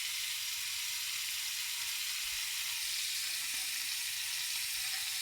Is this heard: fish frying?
yes